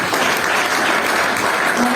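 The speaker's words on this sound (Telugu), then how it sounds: "చప్పట్లు కొడదాం." Congregation or class clapping together during a Telugu Bible recitation session: loud, steady hand clapping from a group, close and continuous with no break.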